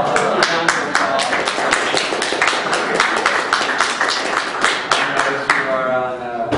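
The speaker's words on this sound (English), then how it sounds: "I guess round of applause. Round of applause." Audience at a book debate on climate change and global energy security gives a round of applause, with dense overlapping claps filling the room steadily throughout.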